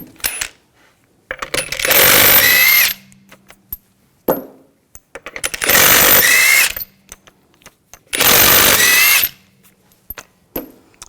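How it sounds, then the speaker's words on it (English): Three loud bursts of an impact tool zip off the wheel lug bolts with a 19mm socket on a 2000-2006 BMW X5. Each burst lasts about a second, with clinking metal and small clatters between them. "We're going to remove the wheel, use a 19mm socket. Take the lug bolts off."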